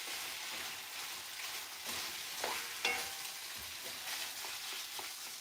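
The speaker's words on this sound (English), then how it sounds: "Right now we're just frying the leftover potatoes," Leftover potato pieces, guts and end pieces sizzle steadily in a frying pan, with scraping stirs and occasional pops over the continuous hiss.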